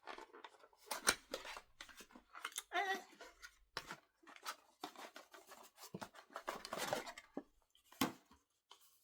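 Perfume packaging being torn open by hand, crisp close crinkling and ripping of paper and card in repeated short bursts over several seconds, with faint handling noises between tears.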